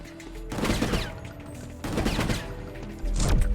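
Bursts of rapid gunfire in the video game Gungrave G.O.R.E, three loud volleys in quick succession, close and punchy.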